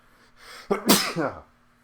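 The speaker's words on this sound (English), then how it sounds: "I'm gonna sneeze soon" A single sharp sneeze up close, with a brief intake of breath before the explosive burst, then quiet.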